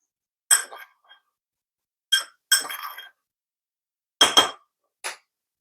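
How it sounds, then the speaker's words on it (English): A spoon clinks against a bowl while Cajun shrimp seasoning is stirred, giving several short bright metallic taps in separate bursts with quiet gaps between, close and clear with no talking. "Now we could just give this a good stir."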